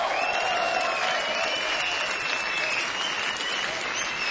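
A concert crowd applauds steadily at a 1987 Munich show, dense clapping with a faint held tone beneath it, lasting the whole stretch.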